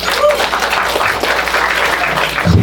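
A crowd at Carla's 20th birthday celebration claps in steady, dense applause close by, with a few scattered voices blended in.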